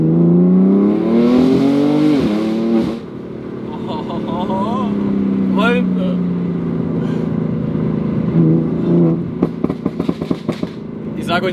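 A 700 hp tuned BMW M4 engine revs up and down in rising and falling sweeps while downshifting, with sharp crackling exhaust pops bursting out near the end.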